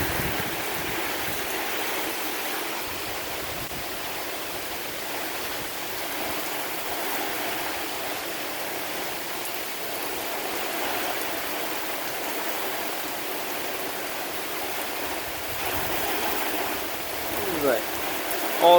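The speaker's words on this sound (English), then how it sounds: "Man, the winds are very strong out here." A severe thunderstorm brings a steady, broadband roar of strong wind and rain, constant and moderately loud throughout, with a faint voice briefly audible beneath it.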